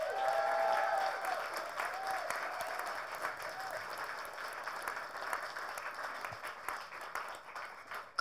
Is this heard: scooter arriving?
no